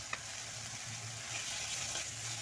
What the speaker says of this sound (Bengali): আমি আর অল্প একটু তেল দিয়ে দেবো।